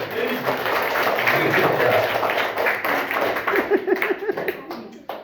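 Schoolchildren at a village primary school clapping together in a classroom, a sustained burst of applause that thins into a few rhythmic claps and scattered voices near the end.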